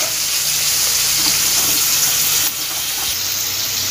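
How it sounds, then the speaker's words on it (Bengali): Water poured from a bowl into a cooking pan with spice paste of cardamom and cinnamon, making a steady rushing splash with faint sizzling, close and continuous. "বাটিটা দিয়ে জল দিয়ে দেবো একটু।"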